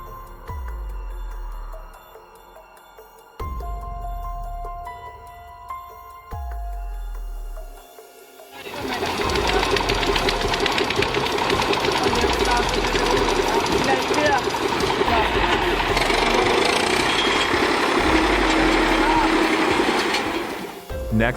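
A driverless tractor engine roars at high speed, loud and steady with a rumbling mechanical clatter, after a few quieter knocking thumps at the start.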